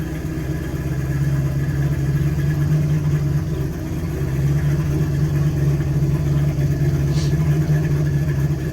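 A car engine idling slightly high, steady with a low, continuous rumble and hum, close by and unchanging.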